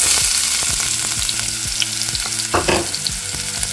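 Chopped onion frying and sizzling in hot oil in a pan, a steady crackling hiss broken by repeated scraping stir strokes from a utensil, close and fairly loud with no talking.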